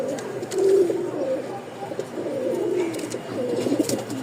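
A male Lahori pigeon coos close by in a soft, low, rolling series of throaty calls with brief pauses, faint background noise underneath.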